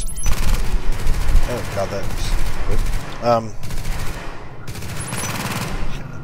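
Rapid bursts of turret gunfire in a PvE shooter video game shred at close range, repeated volleys with pauses between, while a voice exclaims over the shooting.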